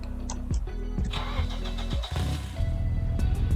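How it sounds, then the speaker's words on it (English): A car engine in the Roblox game SWFL cranks with a few stuttering turns, then catches and settles into a rumbling idle, close and moderately loud. "Let's hear the startup on this thing."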